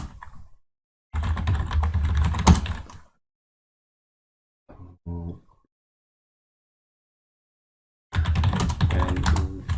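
Keys clatter on a computer keyboard as a terminal command is typed, in two bursts of rapid close typing separated by silence and a brief soft tap cluster.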